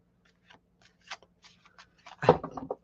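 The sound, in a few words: shuffling tarot cards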